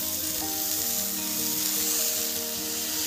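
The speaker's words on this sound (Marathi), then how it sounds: "कोथिंबीर टाकल्यानंतर छान असं याला परतून घ्यायचं आहे" Fresh village coriander leaves sautéing in a pan for chutney, giving a dense, even sizzle that stays loud and steady throughout with no voices.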